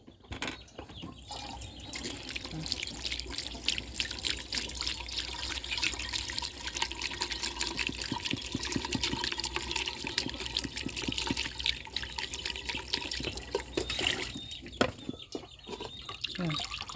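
Food being washed by hand in a bowl of water, continuous splashing, sloshing and trickling close by, with a rooster or chickens faintly in the background.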